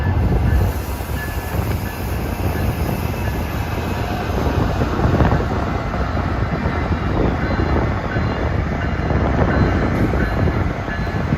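An MBTA MPI HSP46 diesel locomotive hauls an evening commuter train to Providence, a loud, steady rumble of engine and rolling cars passing close by without pause.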